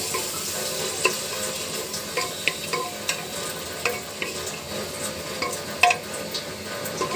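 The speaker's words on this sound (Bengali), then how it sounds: "খুব সুন্দর করে এটা কষিয়ে নেব" A ginger and masoor dal spice paste with coriander, salt, turmeric and chilli is stir-fried in oil, making a soft continuous sizzle under frequent spatula taps and scrapes against the pan, with no talking.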